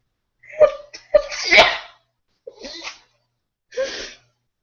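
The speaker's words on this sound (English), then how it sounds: "I feel like I'm gonna sneeze right now." A person sneezes sharply, with quick gasping breaths before it and a couple of softer breathy sounds after, close and otherwise quiet.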